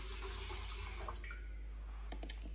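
Cold water, 700 ml, poured into a stand mixer bowl: a steady, fairly quiet stream of running liquid over a low hum, with a few sharper splashy ticks near the end.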